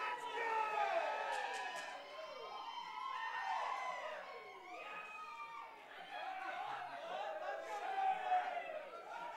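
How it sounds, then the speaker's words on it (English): A large crowd roars and cheers continuously in a big indoor space at a Super Smash Bros. Melee esports match, with rising and falling waves of excited shouting. "I hope you guys can hear the crowd"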